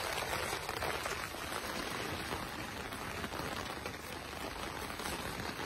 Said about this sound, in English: And the rain has just come.